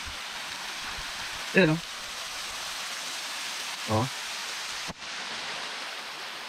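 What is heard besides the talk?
Barasibis waterfall in Lagayan, Abra, sounding like rain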